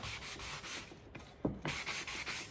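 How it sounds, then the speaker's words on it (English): Sandpaper rubbing along the top edge of a wooden DIY riser, smoothing off sampled stain; a steady run of close, soft abrasive strokes with a short pause midway, no talking. "sanding that edge, making it nice and smooth on the top"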